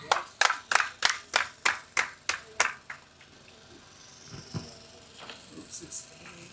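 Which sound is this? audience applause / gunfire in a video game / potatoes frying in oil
audience applause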